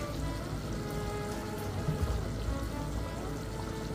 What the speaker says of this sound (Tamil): தண்ணியை வந்து நல்லா வடிகட்டி எடுத்து